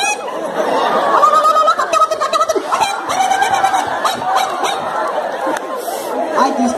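A voice imitates a hen clucking in a Tulu comedy routine, producing a lively run of nasal, squawking fowl-like calls, loud and close, continuing without pause.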